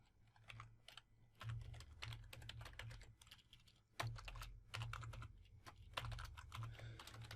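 Rapid, steady keystrokes of C# code being typed on a computer keyboard, close and clear, with a low steady hum underneath and no talking.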